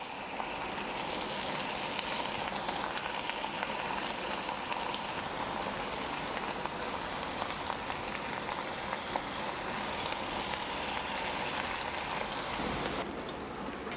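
Cauliflower pieces for Gobi Manchurian sizzle in hot oil: a dense, steady, loud crackling fry that holds unbroken throughout with no voices.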